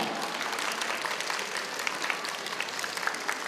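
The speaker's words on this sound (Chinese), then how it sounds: "我们再次的给吴园长及老师再次的掌声" Parents at a township kindergarten graduation ceremony give sustained applause for the director and teachers, a broad wash of many hands clapping evenly throughout at moderate loudness.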